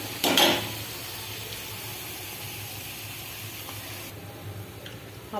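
A methi, carrot and beetroot paratha roasts on a hot pan with a soft continuous sizzle, opening with a brief scrape or clatter of a spatula against the pan.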